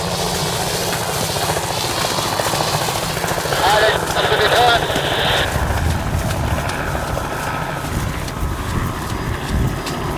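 Continuous rhythmic chop of a small helicopter under heavy wind buffeting on the Kola Peninsula, with people talking over it; the rotor thump swells briefly midway.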